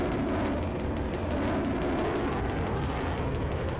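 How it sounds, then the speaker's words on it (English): A 20mm Gatling cannon fires in Air Conflicts: Vietnam, a continuous dense roaring buzz that holds steady and loud throughout with no breaks. "It's not a machine gun, it's a 20mm Gatling gun."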